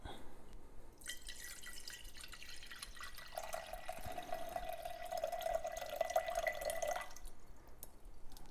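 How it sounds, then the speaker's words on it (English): Water pours steadily into a drip coffee machine's pot for several seconds with a bright trickling splash, then stops, leaving quiet room tone. "I am going to pour it into this coffee pot"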